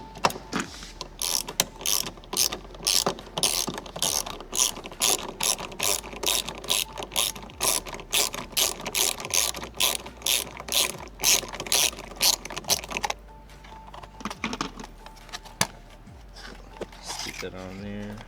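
Ratchet wrench loosening a 10mm bolt inside a car's interior trim while fitting a harness bar, a steady run of rapid close clicking bursts that stops near the end, with faint speech underneath.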